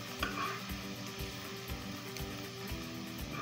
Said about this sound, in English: now I'm cooking my garlic